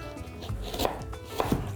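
A knife chops carrots for a pumpkin salad on a cutting board, giving several sharp, close taps at an uneven pace, fairly quiet with no talking.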